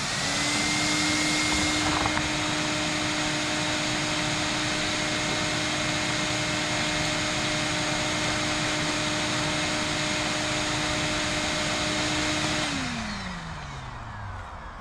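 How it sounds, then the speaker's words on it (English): A vacuum cleaner runs loud and steady with a constant whine while cleaning out an old Mill wood stove, then switches off near the end, its motor winding down. "Vacuum out the back a little bit."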